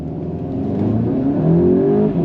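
A Volkswagen GTI Performance pulls hard on a hot lap, its engine note climbing steadily in pitch through the gear, loud and close with no talk.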